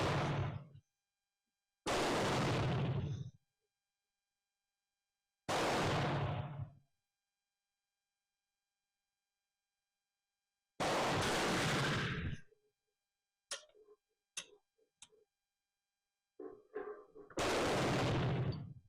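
A Danish rolling block rifle in 11.7 caliber fires four loud, close shots at spaced intervals, each a sharp blast with a short rumbling decay, and a few quieter clicks and knocks fall between the later shots.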